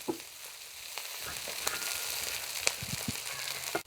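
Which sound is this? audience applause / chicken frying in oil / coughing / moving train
chicken frying in oil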